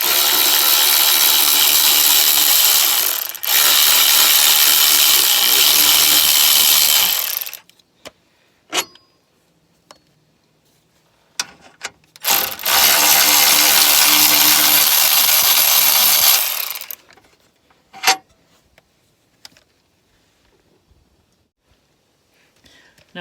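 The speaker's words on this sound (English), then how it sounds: "I'm going to go ahead and pull them out the rest of the way with this electric ratchet." An electric ratchet spins bolts out on a Mini Cooper S during front sway bar work, two loud, steady whirring runs of several seconds each, separated by clinks and quiet handling sounds up close.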